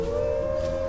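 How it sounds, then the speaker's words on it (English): A wolf howls in Skyrim, a single sustained tonal wail held steadily through the brief moment, fairly loud against a low ambient rumble. "Man, how many wolves are there around here?"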